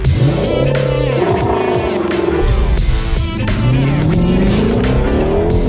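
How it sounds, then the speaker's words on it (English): A car launched with launch control at about 4,100 RPM during LA street racing, engine screaming up through first gear at full throttle, loud and close, with the rising pitch sweeping upward and repeated revving surges. "So all we got to do now, first gear, clutch is all the way in, accelerate full."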